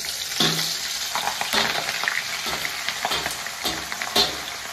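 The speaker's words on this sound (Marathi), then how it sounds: "हिरव्या मिरच्या तळून घेऊया।" Green chillies fry in hot oil for a murmura chivda, giving a steady sizzle broken by sharper crackles and stirring scrapes, close and fairly loud, without talk.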